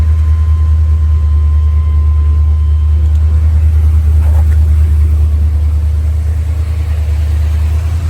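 A running 1979 Chevrolet Corvette engine with its smog pump still fitted idles steadily up close, a deep continuous rumble holding an even level throughout.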